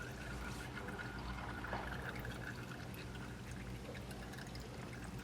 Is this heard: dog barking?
no